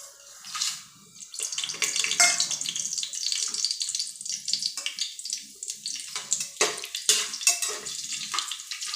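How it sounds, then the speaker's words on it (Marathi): Rice is washed in water in a kitchen: swishing and sloshing come close and fairly loud in uneven bursts, with splashes running on throughout. "चला आता आपण तांदूळ धुवून घेऊया"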